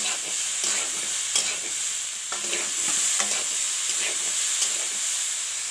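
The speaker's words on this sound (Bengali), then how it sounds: "পেঁয়াজ কাঁচা লঙ্কা, বিটকপি আর আলুকে দিয়ে দেবো, দিয়ে নাড়াচাড়া করতে হবে।" Cabbage, potato, onion and green chilli fry in a pan while being stirred, giving a steady sizzle broken by repeated scraping strokes of the spoon, close and clear with no voices.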